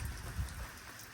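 Rain falls during a nighttime thunderstorm in the Ozarks, a faint steady patter with a soft low rumble early on.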